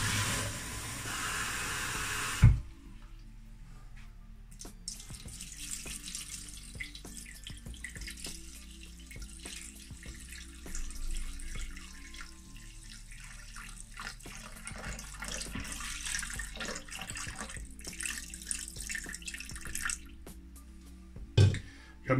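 Tap water runs steadily into a Thermomix pot for a cherry sauce, a continuous close splashing stream lasting about twenty seconds with small clinks near the start and end and no talk over it.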